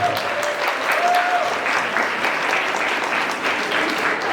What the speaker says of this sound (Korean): 여러분 박수 한번 크게 부탁드리겠습니다